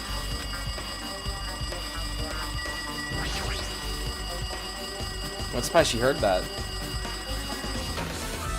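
An in-game telephone rings in the video game Danganronpa 2, a steady electronic ring that repeats under game music and sound effects, with a person talking over it at times.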